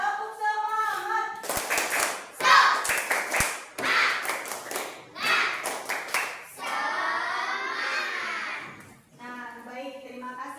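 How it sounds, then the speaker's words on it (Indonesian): An elementary school class performs a rhythmic 'tepuk semangat' spirit clap, children chanting along with bursts of sharp patterned claps in a classroom. "kita lakukan tepuk semangat dulu ya"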